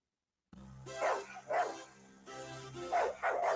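A dog barks in several sharp, loud bursts nearby, with short pauses between them and a low steady hum underneath.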